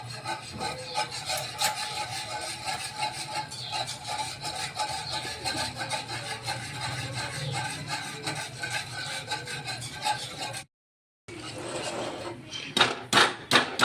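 Thickening dough being stirred steadily in a pan, repeated scraping and rubbing strokes throughout, a brief pause near the end, then a few sharper scrapes.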